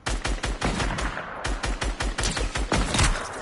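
Rapid bursts of gunfire in Fortnite, a rhythmic string of sharp, loud shots repeating at a steady quick pace throughout, alone with no talk.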